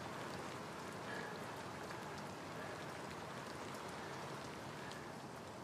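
Steady rain falling at night in a park, an even, dense patter with no breaks, quiet and spread all around.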